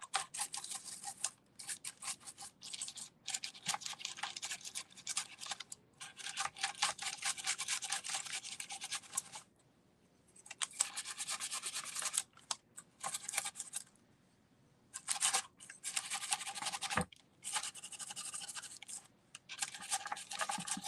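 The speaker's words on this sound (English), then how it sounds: "I'm just adding a little bit lighter back on the molds. Okay, now I'm just using some Rub and Buff gold leaf." Gold Rub and Buff leaf being rubbed onto decorative molds during a fall craft project, heard as dense, close scratchy rubbing strokes in long runs broken by short pauses, with no talking.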